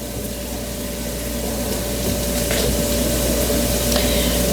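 Onion sautés in a pan over a raised flame, making a steady close sizzle and hiss that holds level throughout, with no one talking.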